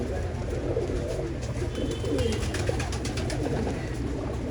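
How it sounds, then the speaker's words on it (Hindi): Dub-wala pigeons coo in a low, throaty, rolling murmur amid a busy backdrop with faint higher chirps, fairly close and continuous with no voices. "बहुत पसंद है दोस्तों मुझे ये डब वाला कबूतर"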